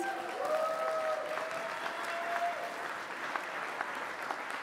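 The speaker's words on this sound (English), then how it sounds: "Big cheer for Jo, please." An audience at a charity ball breaks into sustained applause and cheering, a dense steady clatter of clapping filling the room, with a voice briefly heard underneath at the start.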